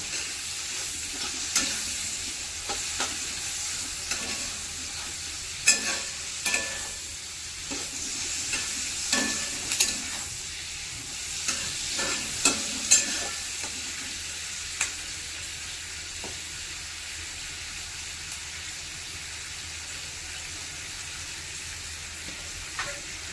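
Onions softening with chilies and black pepper in a pan for chicken biryani sizzle steadily while a spoon stirs and scrapes in irregular bursts, close and moderately loud.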